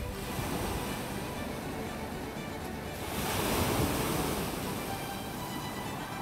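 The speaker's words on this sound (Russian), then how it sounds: "Море разбушевалось, это что-то." Stormy Black Sea surf pounds stone breakwaters, a steady loud roar of crashing waves with wind buffeting the microphone, swelling slightly midway and continuing without talk.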